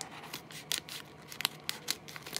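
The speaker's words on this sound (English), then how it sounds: "I'm just gonna cut it up" Scissors snip through packaging from a haul in a string of sharp, close cuts of uneven rhythm, with no talking.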